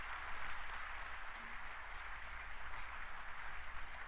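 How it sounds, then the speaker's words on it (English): Applause at a government news event unveiling a policy blueprint, a steady and faint wash of clapping from an audience that holds evenly for about four seconds. "Please give a big round of applause."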